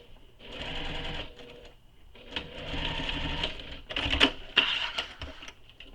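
A sewing machine stitches backpack seams in bursts of rapid, close mechanical whirring, three runs separated by short pauses, the last one choppier with sharp clicks.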